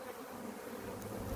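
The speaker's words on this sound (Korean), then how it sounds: "여기는 장수 말벌이 판을 칩니다." Giant hornets buzz around a beehive in an apiary, a steady close insect drone running through the whole short stretch with no speech.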